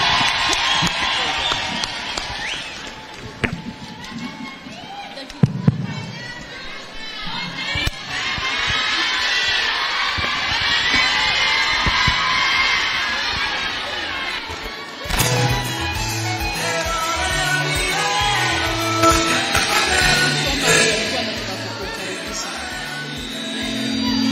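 A large crowd at a women's conference in a Nairobi hall cheers, whoops and ululates loudly to welcome a speaker, with shrill trilling calls and shouting building into a sustained roar that swells again near the end.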